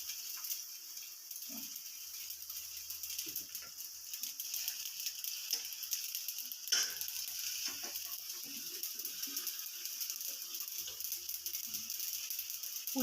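Bitter gourd frying in a pan gives off a steady hiss with scattered soft pops and crackles, one louder snap standing out partway through, alone and fairly quiet.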